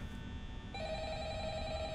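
Telephone ringing in the Five Nights at Freddy's video game: a steady electronic ring tone enters partway through over a low, constant ambient hum, sustained to the end.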